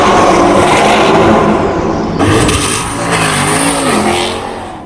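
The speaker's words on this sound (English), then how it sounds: "we'll get a couple of accelerations" Twin-turbo 6.5-litre 397 engine car revving and accelerating on a worn road, loud and close, with rising engine tones and a brief drop in the middle before the roar builds again.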